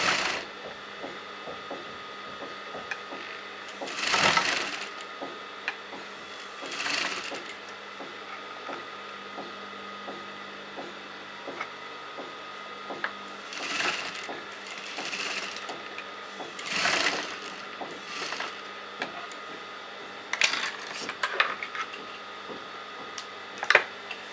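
A sewing machine stitches around a garment neckline, its rapid mechanical chatter running in bursts with short pauses and ticking handling sounds between, close and steady, no talk.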